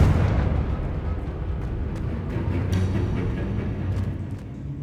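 Confringo spell explosion in Hogwarts Legacy, a deep booming blast at the start that trails off into a long low rumble, with faint small crackles over the fading roar.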